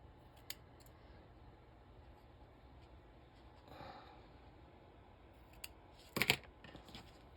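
Scissors making an angled cut through ribbon on an acetate bookmark, a single quick, close snip near the end after mostly quiet handling and a soft rustle.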